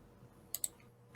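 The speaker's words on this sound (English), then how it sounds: "You can just hear you clicking away." Two quick, crisp clicks in close succession, faint and near, over a quiet room hiss, like a computer mouse or keyboard being tapped.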